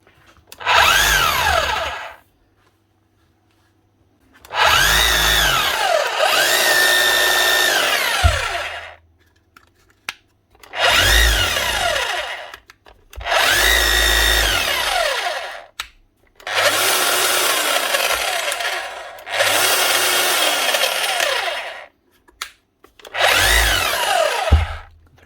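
Makita HR3210C rotary hammer drill running in repeated loud bursts of a few seconds each, separated by short pauses, rattling and hammering alone with no talk.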